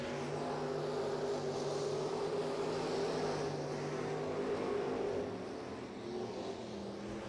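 Hobby stock race cars roaring around a raceway during a race, a continuous broad engine drone from several cars at middle distance, fairly loud and steady and easing slightly near the end.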